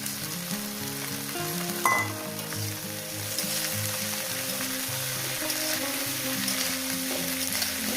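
Bitulis with green chili fry in a pan, making a dense, loud, continuous sizzle that stays close and even throughout, with a brief stirring clatter near the start and no talking.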